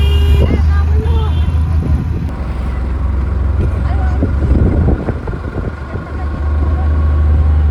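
An auto-rickshaw ride toward New Digha station carries a continuous engine drone and road rumble with some wind buffeting, while people talk over it.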